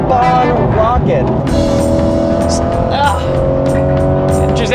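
A Corvette Stingray accelerating hard in a drag race against a Mercedes-AMG GT63, with a loud, sustained engine note climbing steadily through the gears and a sharp shift partway through.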